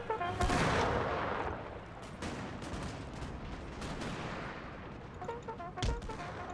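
Artillery battery firing in a Napoleonic-era strategy battle game: a sharp, loud boom opens, followed by a rumbling tail and scattered distant cannon and musket reports, with a second heavy shot near the end.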